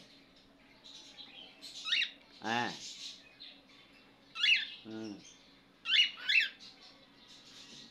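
A pet bird gives short, bright chirping bursts at intervals in a quiet room, while a person murmurs brief sounds between the calls.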